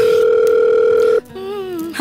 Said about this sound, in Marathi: मी त्यांना जरा फोन करते.